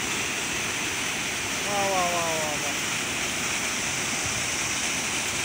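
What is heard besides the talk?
waterfall by a river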